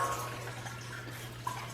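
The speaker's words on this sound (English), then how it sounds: "I can hear the water coming through here." Water running steadily through the fill line of a direct DC hybrid water heater in freezing weather, a continuous low rushing flow with a steady hum and a small gurgle near the end.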